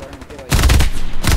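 A loud burst of rapid gunfire in Hell Let Loose erupts after a quiet moment, then a second short volley follows close by.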